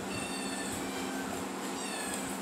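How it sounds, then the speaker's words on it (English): Six young kittens meow continuously with high, thin, overlapping cries, close and fairly loud. "These are our six kittens"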